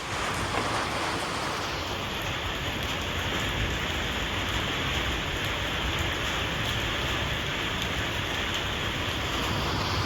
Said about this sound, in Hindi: रात को 8 बजे यहाँ हो रही है हमारे देहरादून में भयंकर बारिश।